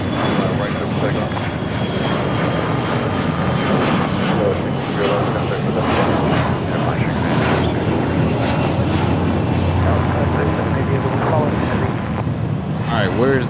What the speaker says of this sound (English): It's the A321 that we talked about coming in, rolling off the runway